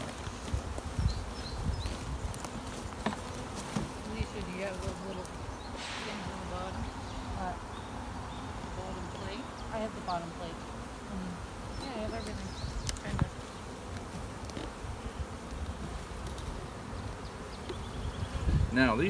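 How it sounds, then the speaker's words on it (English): Italian honey bees swarm around an open hive during a beginners' hive tour, a steady dense buzz close to the microphone throughout, with a person talking over it and occasional handling noises. "bees are a little bit more touchy. They're jumping up at my hand a little bit more."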